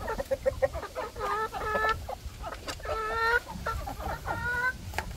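Chickens at a backyard poultry pen, including a large rooster, cluck and call in repeated short bursts, close and clear over faint background noise.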